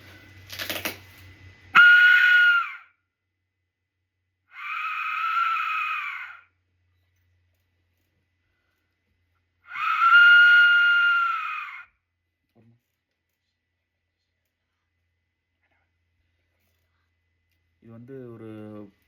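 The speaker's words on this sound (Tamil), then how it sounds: "ஏதோ ஒரு ஆள் கத்துற மாதிரி இருக்குது" A clay Aztec death whistle is blown in three long, shrill, scream-like blasts separated by silence, loud and close, with a short voice at the end.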